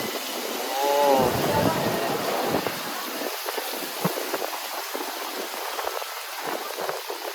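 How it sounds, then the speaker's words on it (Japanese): Rainwater gushes like a waterfall from an overflowing storm pipe inside a train station during a torrential downpour, a broad steady roar of splashing water close by with brief voices over it. "いや、滝だよ、滝ができてるよ。"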